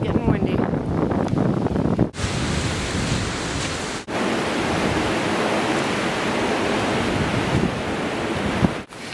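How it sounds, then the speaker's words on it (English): Strong wind on a coastal point at Moose Point State Park, Searsport, Maine, roars and buffets against the microphone in continuous gusts, broken by a few brief abrupt cuts. "Out in the point, it's getting windy."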